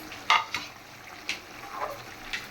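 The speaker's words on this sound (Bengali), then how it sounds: "এখন আমি মাছগুলো দিয়ে দিলাম ভাজা মাছ" Pieces of fried boal fish go into a pot of cooked bean seeds, with a few soft clinks and splashes from the pot and a faint simmer between them. No one speaks.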